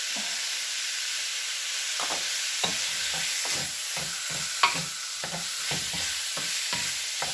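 Sweet and sour pork sizzles steadily in a hot pan under a constant frying hiss, while a utensil scrapes and clanks against the pan in a series of repeated stirring strokes.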